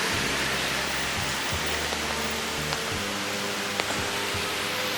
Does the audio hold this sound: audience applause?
no